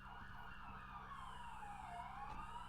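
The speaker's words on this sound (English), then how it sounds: "There's a lot of sirens out there." Police sirens wail in a GTA roleplay video game, several overlapping warbling tones, fairly faint and distant, gliding down in pitch with no talking.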